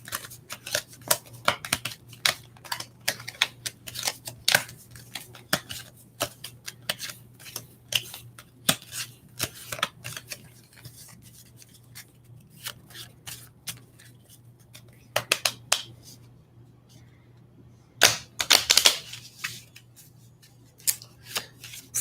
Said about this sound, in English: gotta shuffle them really good